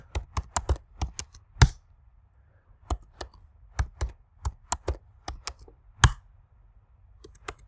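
Fingers typing a root password on a computer keyboard, a close, loud burst of rapid key clicks followed by two further uneven runs of keystrokes separated by short pauses, with no talking.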